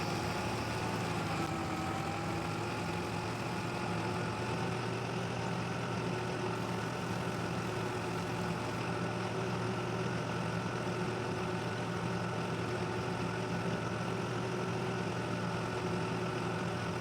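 Massey Ferguson tractor engine in the Farming Simulator 22 video game, a steady droning idle with low rumble and a constant hum held evenly throughout, with no talking.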